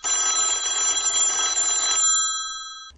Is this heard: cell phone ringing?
yes